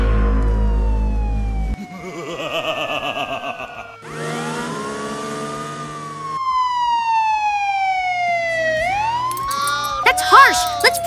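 A toy police car siren wails with rising and falling electronic tones that shift through several patterns, loud and close, ending in a flurry of quick chirps.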